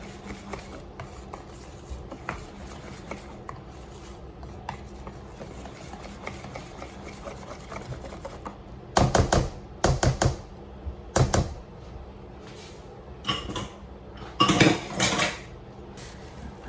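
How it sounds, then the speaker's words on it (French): A whisk beating crêpe batter in a bowl, quiet at first, then bursts of rapid metallic clinking and scraping against the bowl from about the middle onward, with no talk. "Je mélange avec le fouet"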